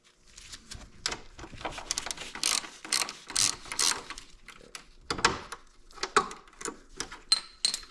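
Screws being backed out of the fork cover and ring of fire on a Honda Goldwing GL1500 with an 8mm tool, giving close, rapid ratcheting clicks in uneven bursts with short pauses between them.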